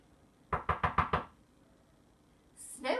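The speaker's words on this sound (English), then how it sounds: "She knocked again." Five quick, sharp knocks rap on a cottage door in an even burst, followed by a short pause and then a brief rustling noise.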